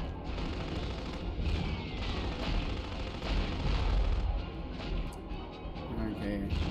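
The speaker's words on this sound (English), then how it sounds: "Everyone's shooting at me!" Gunfire from many enemies in Future Cop L.A.P.D., with steady dense shots and blasts rumbling continuously and a voice talking over the shooting.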